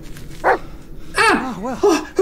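A dog in the VR horror game Blair Witch barks several times, loud, close yips and bow-wows with a short whimpering edge.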